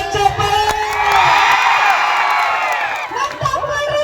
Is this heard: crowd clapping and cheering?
yes